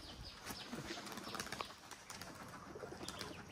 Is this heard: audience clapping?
no